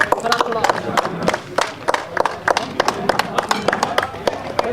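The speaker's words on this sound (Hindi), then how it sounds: "एक बार फिर से जोरदार तालियां मुकेश सिंह जी के लिए" Crowd clapping and cheering for a bowler at a cricket match awards moment, loud, busy and continuous with sharp clap transients throughout, mixed with shouting voices.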